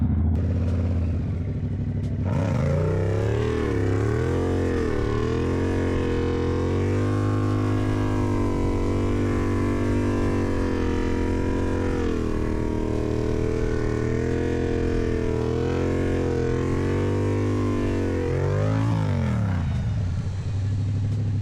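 A 2024 Yamaha MT-07 stunt bike revs loud and close for a wheelie, its engine note rising and holding steady for about fifteen seconds before dropping away, with no talk.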